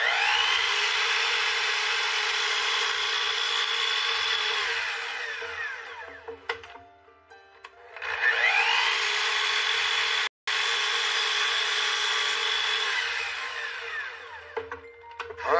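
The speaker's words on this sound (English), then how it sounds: "We set up a stop block in the chop saw, and we'll cut these one right after another." A chop saw set up with a stop block cuts pine boards one after another: two long, loud whining cuts, each spinning down into a short lull with faint clatter between them, and no voices.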